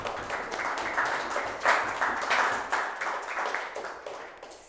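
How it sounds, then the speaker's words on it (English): An audience at a coding bootcamp demo day in Melbourne claps, a moderate, fairly distant patter of many hands that rises and slowly tapers over several seconds. "So you can really give yourself a big round of applause for everything."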